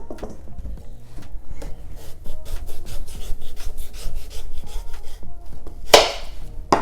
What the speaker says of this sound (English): So I'm ready to slice this yam now.